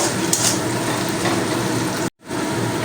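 Ground whole spices frying in a pan for a Bengali fish curry with cauliflower, a steady loud sizzle with faint stirring, broken by one brief gap of silence near the end.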